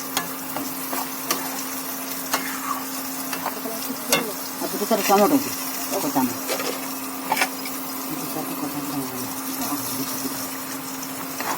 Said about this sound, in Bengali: একটু জিরের গুঁড়ো, জিরে গুঁড়ো দিয়ে নাড়া মশলাটা ভালো করে কষিয়ে নিতে হবে।